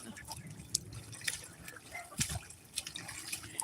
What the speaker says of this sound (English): they got water going into their pool while they're splashing water out of it